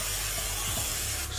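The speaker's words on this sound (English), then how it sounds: "spray oil to that, okay?" A can of cooking spray oil sends a loud, steady hiss over a pan while Mexican spicy fish and cheese enchilada wraps are made, one continuous burst lasting just over a second with no talk.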